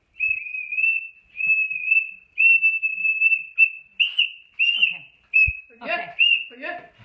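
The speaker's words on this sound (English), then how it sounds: "It's a carabiner, LED, and a whistle." Whistle clipped to an aluminum carabiner with an LED light, blown in a series of short shrill blasts, close and loud, with brief talking near the end.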